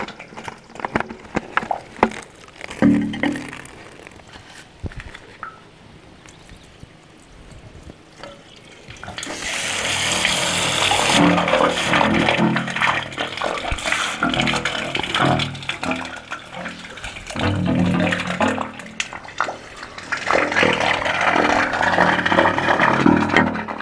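A garden hose pouring water into a well being chlorinated against iron bacteria, quiet rustling at first, then a loud, steady gushing splash that continues to the end.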